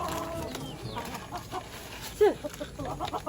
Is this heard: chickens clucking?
yes